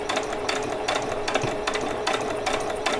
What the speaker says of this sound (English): I'm just going to come back and do a couple of back stitches on there